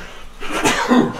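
A single sudden sneeze bursts out near the microphone during a guitar lesson, a short explosive breathy blast with a throaty tail, loud and alone.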